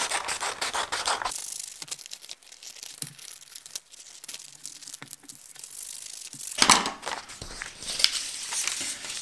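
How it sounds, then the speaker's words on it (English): Scissors snip and crunch through paper while cutting around the edge of a paper monster-foot craft, giving irregular close cuts and rustles with quieter pauses between bursts. "Okay, so now you're going to cut all around the edge of your monster foot."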